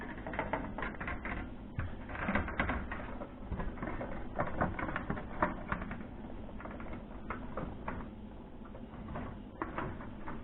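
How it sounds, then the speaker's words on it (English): Plastic cover being refitted onto a fluorescent light fixture, giving a steady run of close, dense clicks, taps and rattles of handled parts, with no talking. "Now I'm going to go ahead and reinstall the cover."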